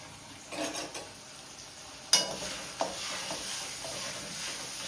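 Ginger garlic paste and chopped green chillies frying in a pan for soya chilli, a soft continuous sizzle with a few spoon clacks and stirring scrapes, close but quiet, without speech.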